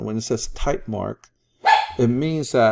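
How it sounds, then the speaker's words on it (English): A pet dog barks in a few sharp, loud bursts at close range, cutting in briefly between stretches of someone talking. "that was my dog"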